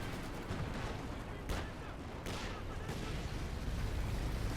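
Tank cannon fire from a Puma armored car and a T-34 in Company of Heroes 2, a few sharp booming shots over a dense, continuous din of battle noise.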